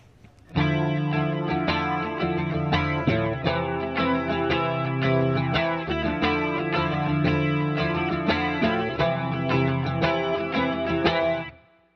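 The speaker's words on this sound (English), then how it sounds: "let's go ahead and take a listen to the flanger at the default settings" Electric guitar chords and picked notes with a sweeping, whooshing flanger effect at GarageBand's default settings, played steadily and clearly for the whole stretch, no talking.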